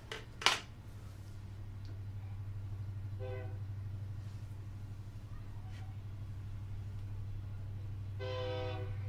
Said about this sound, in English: Let's give it a second so that the train passes.